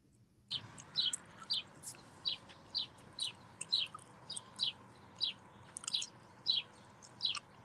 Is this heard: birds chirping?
yes